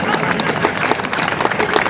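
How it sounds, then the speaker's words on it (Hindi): An audience claps at a Rajasthani comic poetry recital in Ratangarh, a dense, steady patter of applause from many hands, with crowd noise and voices mixed in. "तो भी ताली बजाओ"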